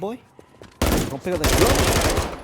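Gunfire in the video game Call of Duty: Modern Warfare 3, loud sustained automatic bursts that suddenly erupt after a short stretch of quieter game sounds and voice-like tones.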